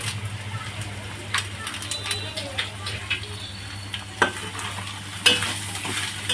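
Chicken fry with curry leaves sizzling in a pan, a steady close frying hiss with scraping stirs and clinks of a spoon against the pan, while someone talks over it.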